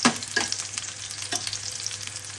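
Pork chop slices and onions sauté in a hot pan for Filipino bistek, giving a close, steady sizzle with a few sharp stirring scrapes and spits and no talk.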